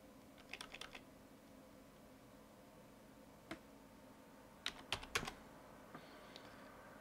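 Typing on a computer keyboard while entering a file path during SSH key setup for GitHub comes as short, faint bursts of key clicks separated by pauses, in a quiet room.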